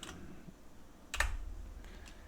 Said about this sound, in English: keyboard key, same thing I did before. This time I'm going to press R.